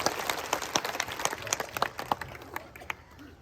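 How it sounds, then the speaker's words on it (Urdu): Loud, close audience applause at a religious gathering: a burst of many hands clapping with sharp irregular claps, thinning out and fading over a few seconds with no talk over it. "ذرا ایک بار زوردار تالیاں آپ ایک بار اس اجلاس کے لیے بجائیں۔"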